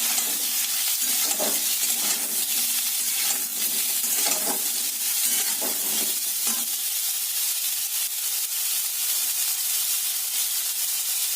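Ridge gourd fritters sizzle steadily in hot oil, a constant bright crackling hiss close by, with a few soft stirring scrapes in the first half and no talking.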